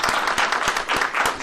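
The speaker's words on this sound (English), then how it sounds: "How about a round of applause for Karen?" Audience clapping at a military promotion ceremony for a major general, a steady mid-level patter of many hands with a few sharper claps standing out, continuous throughout.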